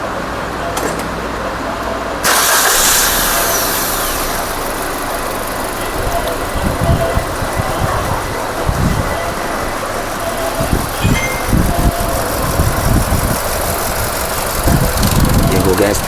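A 2017 Maruti Ertiga with a fitted CNG kit switching over to gas: a steady close engine idle with a mechanical hum under occasional thumps and handling noise, while someone talks over it.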